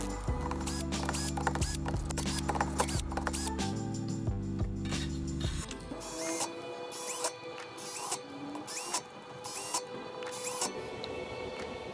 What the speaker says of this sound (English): When it comes to packing wheels up, it's a really good idea to take the rotors off.